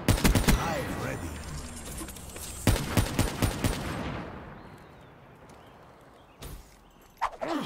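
Two heavy semi-automatic sniper rifle shots from the Drakon in Black Ops 3 ring out, each followed by a long rolling echo, with quieter footsteps and clicks afterward.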